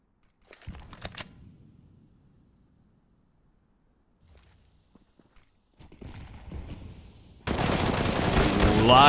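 AK rifle spray during a professional Counter-Strike match, ESL One Rio South American qualifier, Imperial versus paiN: short sharp bursts of fire at the start, a near-silent lull, then a loud, dense wash of game noise.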